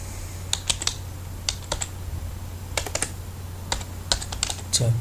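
Clicky keystrokes on a computer keyboard tap out in small irregular clusters over a steady low hum, close and moderately loud, with short pauses between runs of typing.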